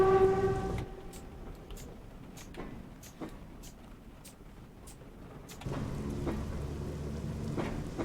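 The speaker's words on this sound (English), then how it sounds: "Although the rain still continues." Steady rain patters on a train in the Train Simulator game, Class 506 Woodhead electric unit, with a low engine hum dropping away and returning, and occasional sharp ticks over the wash.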